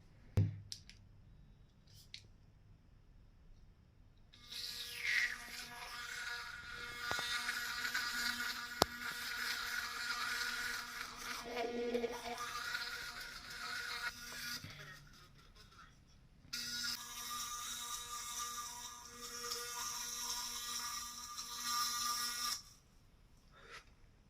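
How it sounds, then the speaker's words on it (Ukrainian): An Oclean X Ultra electric toothbrush runs in whitening mode, giving off a thin, high-pitched electric buzz in two long bursts separated by a short pause, faint and close. "Коли ми включаємо зубну щітку, вона не дуже вібрує."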